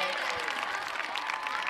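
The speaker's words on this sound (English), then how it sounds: "Give her a round of applause for helping us out." Elementary school children at an outdoor community event clap in a steady burst of applause that fills the whole moment without pause.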